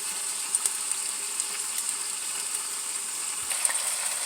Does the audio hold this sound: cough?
no